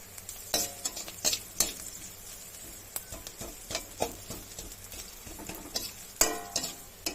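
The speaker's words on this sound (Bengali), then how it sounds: "এবার এগুলোকে একটু নেড়ে চেড়ে নিতে হবে।" Chilli paneer being stirred in a pan, a spoon scraping and clinking in irregular bursts over a soft background sizzle, close and fairly quiet, with no talking.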